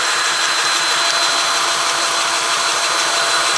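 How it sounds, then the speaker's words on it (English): Motorized spray paint can shaker running on its low setting at roughly 500 to 600 RPM, giving a steady, loud, continuous mechanical buzz with the mixing ball rattling inside the can, heard alone. "you can actually hear the ball inside shaking"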